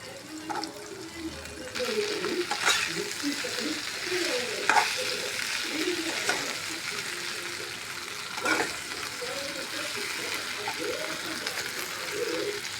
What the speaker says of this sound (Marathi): आपण आता याच्यात भेंड्या टाकू